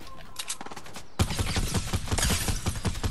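Rapid bursts of gunfire in the video game Fortnite, Chapter 2 Season 2, sparse at first and then a dense, loud run of shots that continues to the end.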